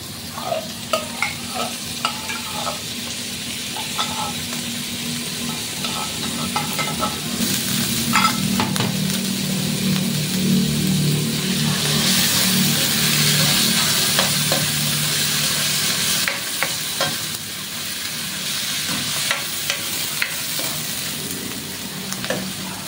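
Corned chicken sizzles loudly in a hot pan while being stirred, with scraping utensil strokes and clinks over a continuous frying hiss that swells in the middle, for corned chicken with sotanghon.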